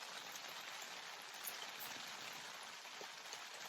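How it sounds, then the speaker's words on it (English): Rain falls steadily at a winter mountain campsite, a soft, even hiss of drops pattering on surfaces, faint and continuous with no talking. "rain started again."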